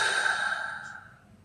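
A person takes one long, deep breath, an audible airy rush that is close and fairly loud at first and then gradually fades, with no talking.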